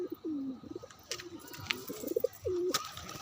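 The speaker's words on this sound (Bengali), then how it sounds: "দেখো পায়রা ডাকছে" Pigeons kept at home give soft, low repeated coos in a few close, distinct phrases, with faint background noise between calls.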